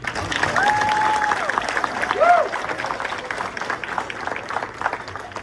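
A crowd at a middle school beginner band concert claps in a steady wash of applause, with a few whistles rising over it partway through.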